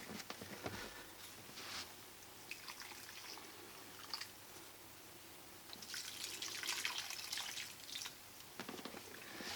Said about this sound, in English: Let the water run right out into the pot.